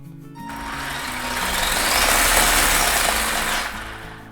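Brushed LRP motor in a Tamiya DF-02 Rising Storm 1/10 4WD RC buggy winds up under throttle, a broadband whine swelling for about three seconds before easing off.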